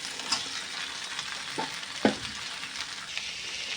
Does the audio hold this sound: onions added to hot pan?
yes